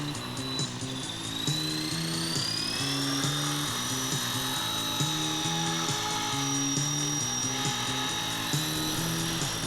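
A helicopter fitted with orange floats flies with a steady, continuous rotor and turbine drone and a high whine, unbroken for nearly ten seconds.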